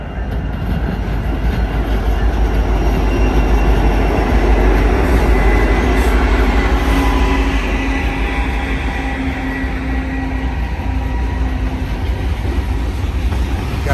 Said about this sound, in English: Got a nice Union Pacific manifest train on the BNSF main track number 2